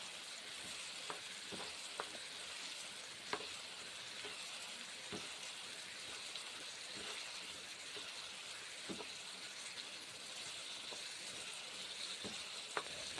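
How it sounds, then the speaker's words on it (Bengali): Bottle gourd stir-fried with spices in a pan gives a steady, soft sizzle throughout, with scattered faint clicks of stirring, fairly quiet and with no voices. "এই যে নেড়ে চেড়ে কষে নিচ্ছি মশলার সঙ্গে"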